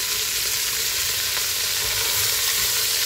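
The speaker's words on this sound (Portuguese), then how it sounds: "Agora eu vou acrescentar a cebola." Beef fries in a pressure cooker as onion is added, a loud, continuous sizzle and crackle of food in hot fat, with faint stirring and no voices.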